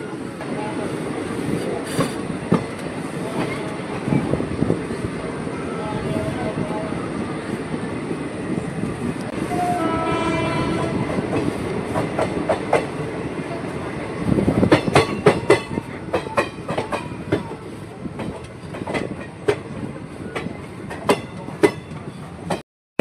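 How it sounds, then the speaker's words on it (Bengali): A Kolkata-bound express train from Jangipur Road creeps slowly along the track between Azimganj and Katwa, with a steady rumble, rhythmic clicks of wheels over rail joints and occasional brief squeals, louder in the latter half. "কিন্তু ট্রেন 5 থেকে 7 মিনিট ধরে খুব স্লো চলছে।"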